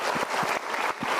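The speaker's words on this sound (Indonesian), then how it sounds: "Kita berikan tepuk tangan dulu sebentar." Applause from a seminar audience at a motivational talk on love and marriage, a short steady burst of clapping heard up close with no voices over it.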